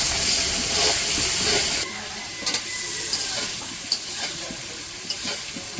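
Spices sautéing in a pan for a village-style chicken curry, a steady broadband sizzle that drops back after a couple of seconds, with scattered stirring scrapes and clinks close by and no talk.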